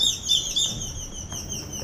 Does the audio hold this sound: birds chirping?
yes